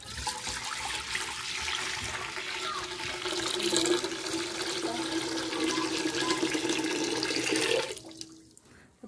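Tap water pours into a clean cooking pot for spaghetti in a steady, rushing fill, close and continuous for about eight seconds before the flow cuts off.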